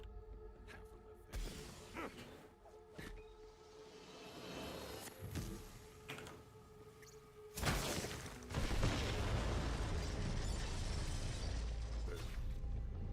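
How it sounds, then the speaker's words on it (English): An explosion rumbles through a forest in a video game, with sharp bursts and impacts building into a loud, lingering boom amid ongoing game sounds. "The explosion echoed through the forest"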